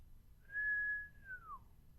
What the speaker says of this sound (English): a little low whistle sounded